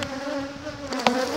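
Honey bees hum in a dense, steady drone around open hives during a smoky pre-season inspection, close and continuous, with one brief nearer buzz sweeping past.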